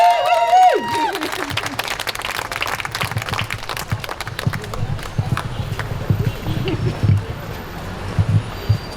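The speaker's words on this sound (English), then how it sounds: "So if we just have a massive round of applause for Rhonda Miller." Conference audience applause and cheering greeting a speaker at a child protection event in London, a dense clatter of many hands over crowd noise that carries on throughout, with an opening whoop.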